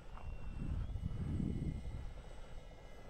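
A small remote-control UMX model plane drones steadily overhead at moderate distance, its buzzing electric motor rising and falling slightly amid wind noise over a hay field.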